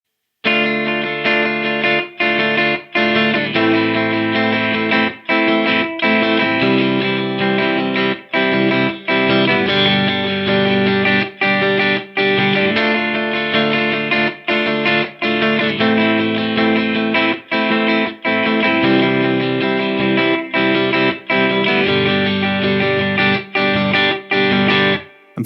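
Guitar chords strummed in a tight funk 16th-note rhythm with short choppy gaps between strokes, one bar per chord, with an effects-laden, slightly distorted tone, loud and steady with no talking.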